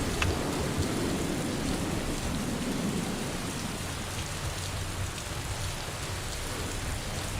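Steady rain pours in a Mass Effect 3 multiplayer match, a dense, even hiss with low rumbling underneath, continuous and fairly loud throughout with no talking.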